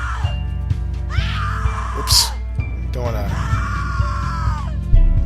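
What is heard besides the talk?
woman screaming in The Cat Lady video game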